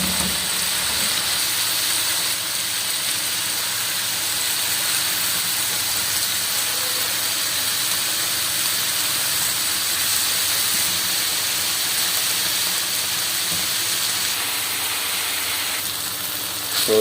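Cauliflower and potatoes land in a hot spiced tempering in a pan for tawa aloo gobhi, giving a loud, steady broadband sizzle that hisses on evenly without talk.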